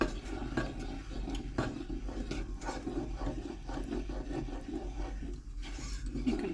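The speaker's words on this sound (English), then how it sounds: "this is a stage where you keep stirring" Flour sauce for lobster mornay is stirred in a pan, a soft, continuous scraping and swishing with occasional light knocks of the spoon against the pan, close and fairly quiet, with no talk.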